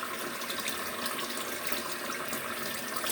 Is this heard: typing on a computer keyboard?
no